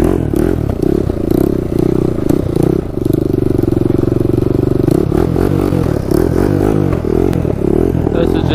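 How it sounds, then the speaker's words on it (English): A rough quad ATV engine with an exhaust leak runs loud and close, its steady throbbing drone broken by popping backfires and rattly crackles throughout. "A little backfiring. That's from that exhaust leak."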